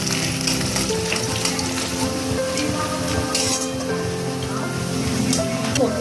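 Onions frying in a pan until lightly browned, a steady bright sizzle running throughout with a few faint clinks and stirring noises, close and fairly loud.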